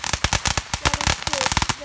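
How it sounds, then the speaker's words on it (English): Fireworks crack and pop in a rapid, dense string of sharp close bursts, loud and continuous for the whole stretch. "Cool fireworks!"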